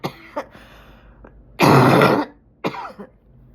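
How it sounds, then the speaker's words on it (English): A single loud, harsh cough between short bursts of throat clearing, close and with no talking. "I have that cough that everybody has."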